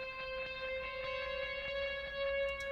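A faint, sustained guitar note rings with a washy, echoing haze and soft repeating delay taps, only the effects signal with the direct guitar removed, ambient and distant.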